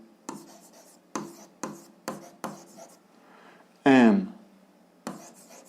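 Writing points down while graphing a function: a pen or chalk strikes in a run of short, regular strokes, close and clear, with one longer scrape partway through and no talking.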